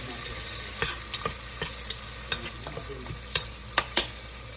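Peas and carrots stir-frying in a pan for khichdi, a steady close sizzle broken by repeated sharp spoon scrapes and clinks against the pan, with no talking.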